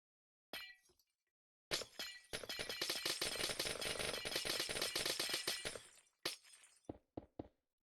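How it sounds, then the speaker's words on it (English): Glass breaks in the Minecraft GregTech: New Horizons modpack. A sharp crack is followed by a long, dense run of shattering and crunching, then several short isolated clinks as the sound trails off. "sound of breaking glass"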